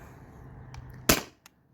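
A T4E TR68 home defense launcher firing a 68-caliber riot ball, one sharp, loud pop near the end of a quiet moment, preceded by faint clicks and followed by a small tap.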